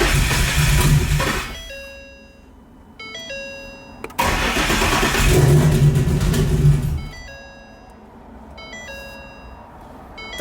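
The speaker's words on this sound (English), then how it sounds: "get the car started here." A 1,000-horsepower Ford Mustang engine cranks and roars to life twice, each burst fading away, while a repeating electronic chime rings in the pauses.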